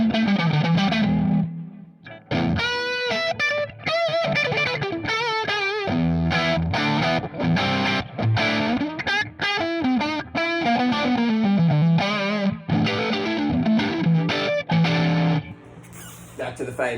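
An electric guitar plays through a Suhr Hombre amp set to 6G3 mode, loud, with distorted, sustained notes and quick melodic runs, one brief gap early on.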